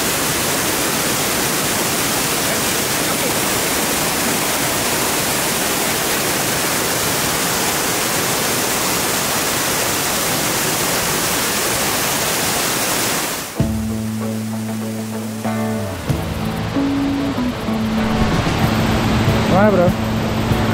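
A river stream on a Gunung Halimun hike rushes loudly and close in a continuous roar for about thirteen seconds, then cuts abruptly to music.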